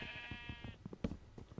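A soft, slightly synthetic-sounding sheep bleat in a Minecraft-style video game, rising briefly, followed by faint scattered thumps and clicks in the background.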